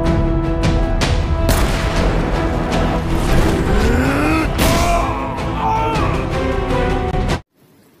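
Toy cars, including a toy police car, play loud electronic engine revving, tire squeals and crash effects, with a continuous busy wash of tones and sweeps that cuts off abruptly near the end.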